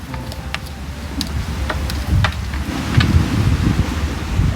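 Strong sea waves churn in a steady, broad rumble close by, mixed with wind buffeting the microphone and a few faint clicks, with no talk over it.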